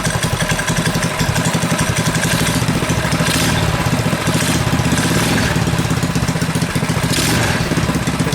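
A modified KT196 go-kart engine with its idle screw and low-speed mixture adjusted idles loudly and close by, a steady rattling putter that runs continuously with slight rises in pitch, without talk.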